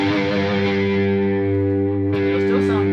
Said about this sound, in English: let me turn the distortion all the way up.